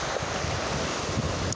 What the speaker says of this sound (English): the power of this water, these waves, is like, hello?